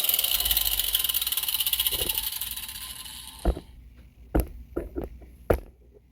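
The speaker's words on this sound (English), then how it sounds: "Got my cutting wheel." An angle grinder's abrasive cutting wheel slices through thick, heavy metal stock for a fan mount, a loud continuous harsh whine for several seconds that stops, followed by a few sharp knocks and clanks.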